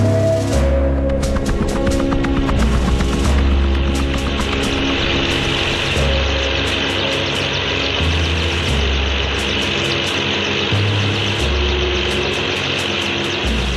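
An early Sikorsky helicopter flying freely without tethers, a loud continuous engine drone with a rhythmic rotor chop that holds steady throughout.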